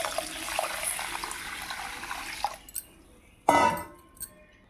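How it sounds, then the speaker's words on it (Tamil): Soaked fenugreek and grains being rinsed in water for paniyaram batter: a steady rush of running water, then quieter splashing and a sharp slosh near the end. "நல்லா அலம்பி கழுவி எடுத்துப்போம்"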